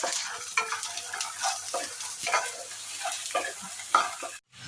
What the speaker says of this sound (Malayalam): എണ്ണ ഒഴിച്ചതിന് ശേഷം രണ്ട് പച്ചമുളക് തേങ്ങ വെളുത്തുള്ളി ചേർത്തതിന് ശേഷം നന്നായിട്ട് ഇളക്കുക